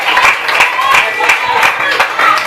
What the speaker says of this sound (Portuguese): Pode adorar Ele com as suas palmas